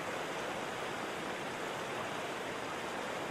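A roaring waterfall gives off a constant, dense rush of falling water, steady and unbroken, with no voices.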